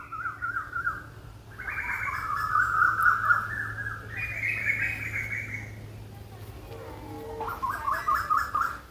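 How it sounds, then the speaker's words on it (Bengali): Many birds call at a distance along a shaded forest nature trail in a botanical garden beneath big banyan trees, with bursts of tweeting and trilling rising and falling over a steady low hum throughout. "দূরে অনেক পাখির ডাকও শোনা যাচ্ছে।"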